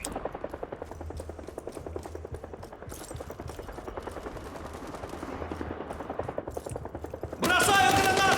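Sustained rapid automatic gunfire in a video game rattles steadily for several seconds alongside a loud helicopter drone, ending with a brighter, harsher burst of noise.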